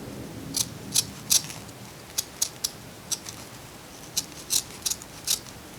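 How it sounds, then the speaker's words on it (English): Crisp, close scissor snips cutting small triangles out of burlap, about a dozen sharp cuts spaced irregularly, some coming in quick pairs, with no talking. "So I'm cutting little triangles out"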